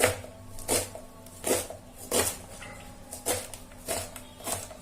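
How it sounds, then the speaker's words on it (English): Leafy greens for sambar chopped with a knife on a board: a steady series of about seven separate, evenly spaced cuts, close and fairly quiet. "so like this, we'll cut all the greens"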